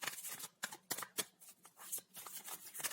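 Deck of tarot-style cards being shuffled for a pick-a-card reading, close and crisp, with repeated riffling and sharp slaps in an uneven rhythm, no talk over it.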